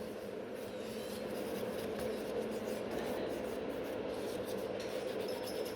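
A nail file reshapes the free edge of a natural nail after gel extension removal, making a soft, steady, continuous rasping rub heard up close and fairly quiet.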